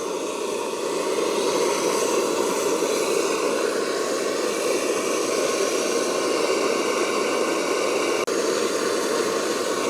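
A Primus OmniFuel II stove burner running at full flame with its valve wide open, giving a steady, loud roaring hiss that holds even throughout, with one brief click near the end.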